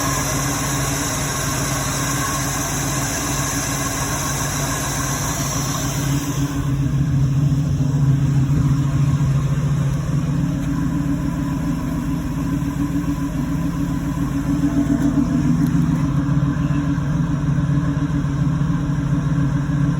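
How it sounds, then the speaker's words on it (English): A 1986 Oldsmobile 442 with a Quadrajet carburetor and throttle-position-sensor troubles idles steadily, a constant low engine rumble with a high-pitched whine that drops away partway through, with no talking. "I'm going to start the car and see if it throws a code or not"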